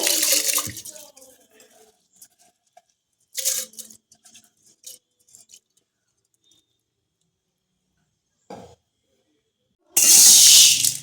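Washed rice goes into boiling water for a Vishu payasam: scattered soft clinks and rustles with long quiet gaps, then a loud hissing splash close by at the end.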